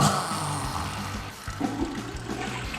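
A toilet flushes in one continuous rushing, gurgling surge of water, fairly loud and close, with no voices over it.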